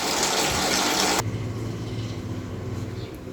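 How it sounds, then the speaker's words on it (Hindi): Running water pours and splashes strongly for about a second, then cuts to a softer steady trickle and sloshing, as if something is rinsed under a tap. "इसे मैं मोटा मोटा एक पानी से धो लेती हूँ"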